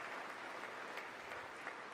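Distant, faint applause from the audience at a State of the Union address, a continuous wash of clapping.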